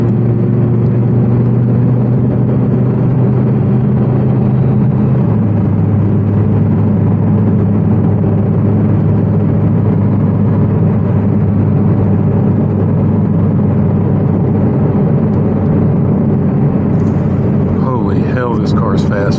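An Audi R8 V10 Spyder, a 2023 convertible with a naturally aspirated V10, accelerates hard, its engine drone loud and steady with a shift in pitch partway through and wind rush throughout.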